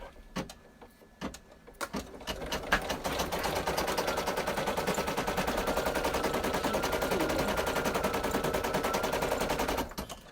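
An embroidery machine stitches a beard placement line on a treat pouch in light thread, a steady fast mechanical chatter running close and continuous for about eight seconds after a few sharp clicks at the start, then stopping abruptly.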